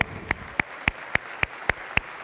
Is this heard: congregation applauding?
yes